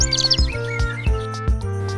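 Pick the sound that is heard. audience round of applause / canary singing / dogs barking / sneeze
canary singing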